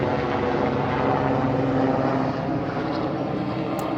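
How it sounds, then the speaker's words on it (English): A helicopter passes close overhead outdoors, a loud, steady broadband engine and rotor rumble that fills the whole stretch with no talking. "a helicopter flew right here."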